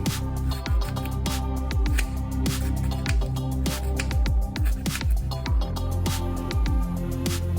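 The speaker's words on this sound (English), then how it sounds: "you must finely chop the red cabbage" A knife chops red cabbage finely on a cutting board, giving a quick, steady run of sharp close taps and crunches throughout with no voice.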